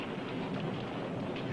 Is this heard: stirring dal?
no